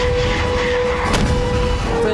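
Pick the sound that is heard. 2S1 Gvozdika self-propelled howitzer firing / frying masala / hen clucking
2S1 Gvozdika self-propelled howitzer firing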